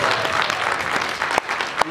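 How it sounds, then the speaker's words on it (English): A short burst of audience applause for corporate staff at a business event, dense clapping that stays fairly even, with a couple of sharper claps near the end. "a big round of applause for Donald Bradley again and the corporate staff."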